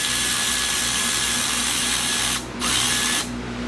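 A power tool whirs steadily and close while loosening bolts on a Kia Rio during air conditioning work, with two short dips where the motor briefly eases off.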